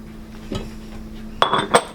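A utensil clinks and scrapes against a dish while potato gratin topping with Parmesan is tossed together, giving one soft tap and then two sharper clinks close by.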